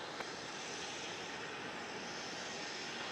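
An airliner taking off from runway 27 at Melbourne Airport, heard as a steady, distant, broadband jet roar that holds constant throughout.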